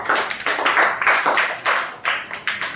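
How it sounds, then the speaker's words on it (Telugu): Schoolchildren clapping together in rhythmic bursts at a primary school, the claps close, bright and steady, each volley rising and dropping in quick succession. "క్లాప్స్."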